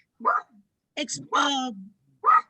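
A dog barks in short yips and whimpers, a few separate bursts in a quiet room, heard during an online committee meeting.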